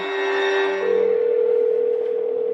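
A telephone call rings out with a steady electronic tone that sustains unbroken for a couple of seconds, clear and close with no voices.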